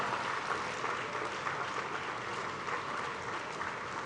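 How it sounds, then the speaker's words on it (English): A large crowd at a graduation ceremony applauding steadily, a dense wash of many hands clapping at once, sustained and even throughout. "Can we have a huge round of applause, ladies and gentlemen?"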